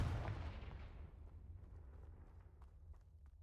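A Confringo fire spell in the Hogwarts Legacy video game bursts with a deep, booming explosion that fades out over a few seconds, heard alone and fairly faint.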